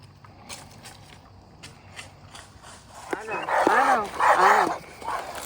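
A dog barks several times in quick succession at close range, following a quiet stretch with only faint background noise.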